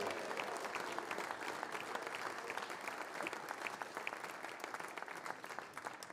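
Applause from the audience at a football awards ceremony as legends walk on stage for a player of the year award, a continuous wash of many hands clapping, steady and moderately distant.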